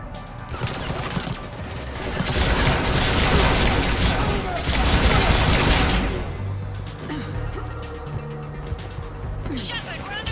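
Sustained battle gunfire from the Mass Effect 3 video game, dense rapid shots and explosions that swell loud, then ease slightly, with voices calling out over the combat.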